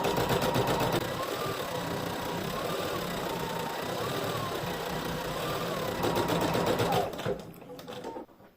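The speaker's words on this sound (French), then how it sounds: "la machine maintenant va faire le point de fixation" An embroidery machine sews the fixing stitch on an appliqué laid over terry cloth, a loud continuous rhythmic buzzing hum that runs steadily for several seconds before stopping abruptly.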